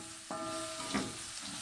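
Garlic and shallots dropped into a hot frying pan, a sudden close sizzle that bursts in and then holds as a steady hiss for the rest of the brief moment.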